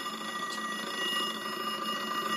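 A telephone rings with a continuous electronic tone full of bright, steady overtones, moderately loud and heard alone with no talk over it.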